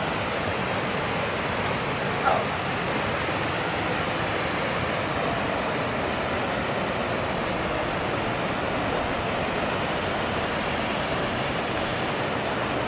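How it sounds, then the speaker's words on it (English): Water falling from Hungry Horse Dam in northwest Montana into the South Fork Flathead River, a steady, dense roar of rushing water filling the whole span without letup, close and loud, no voices. "Near the bottom of the Hungry Horse Dam in northwest Montana. Falling into the South Fork Flathead River."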